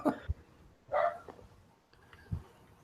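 A neighbor's dog barks outside, giving three short, sharp barks spaced about a second apart, moderately distant and fairly quiet, with no voices over them.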